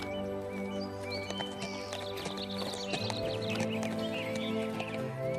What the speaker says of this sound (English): Jesus rode into Jerusalem on a donkey.